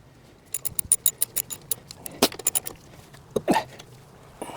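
A brake part is bolted back onto a 2015 Mazda 6 during a front rotor replacement, with quick bursts of metallic ratcheting clicks and a couple of sharper clanks, close and fairly quiet.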